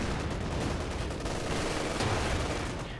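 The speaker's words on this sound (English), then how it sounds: "Anti-tank gun shooting." Battle din from the Company of Heroes 2 video game with an anti-tank gun firing, a dense, continuous roar of gunfire and explosions, steady and loud with no clear pauses.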